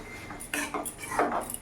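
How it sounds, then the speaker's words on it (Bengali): A spatula scrapes and clatters against a pan while stirring chicken masala fry with potatoes, a few short, close metallic strokes. "এবার আমি ভালো করে নাড়াচাড়া করে নেব"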